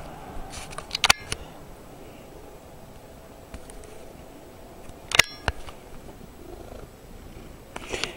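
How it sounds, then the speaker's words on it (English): A 21-year-old cat purrs softly and steadily close by, with a couple of sharp clicks and clatters breaking through the quiet. "It's a happy cat."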